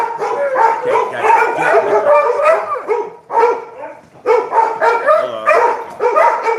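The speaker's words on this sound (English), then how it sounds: "trying to settle the dogs down" Several dogs bark loudly and repeatedly in overlapping bursts indoors, close by, with yips and a brief lull in the middle before the barking resumes.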